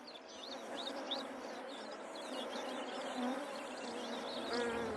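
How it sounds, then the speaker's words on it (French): A steady, dense buzz of bees fills the air near a river in the Maasai Mara bush in Kenya, continuous and close with no pauses. "Le bourdonnement des abeilles n'échappe pas à Kireu."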